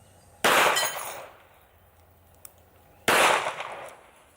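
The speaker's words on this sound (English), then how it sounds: "Yeah, I'm shooting high." Two loud, sharp gunshots from a small gun shaped like a phone, spaced about two and a half seconds apart, each with a brief decaying ring, and a faint click between them.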